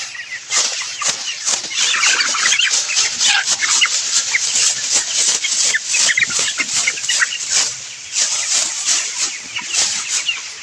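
Chickens in a dim, fenced poultry shed with damp, spoiled litter cluck continuously in a dense, overlapping chorus, close and loud throughout, with no voices heard.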